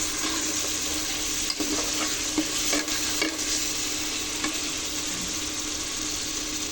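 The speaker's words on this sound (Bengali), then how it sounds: "দেখুন মশলাটা কত সুন্দরভাবে কষানো হয়ে গেছে।" Spice masala for chicken bhuna sizzles and fries steadily in a pan, with occasional scraping stirs of a utensil against the metal and no voices.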